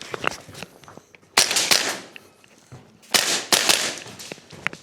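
A VFC MPX Copperhead gas blowback airsoft rifle firing semi-auto: sharp, snappy single shots in two quick bursts of several rounds, loud and close, with faint clicks and rustling between them.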